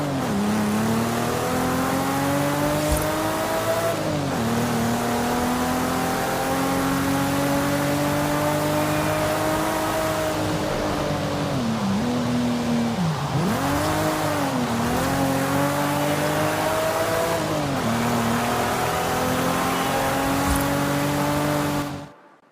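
Turbocharged racing car with sequential twin turbos in Forza Horizon 5, its engine loud and sustained as it revs up and down through gear changes, with tire squeal at a few points.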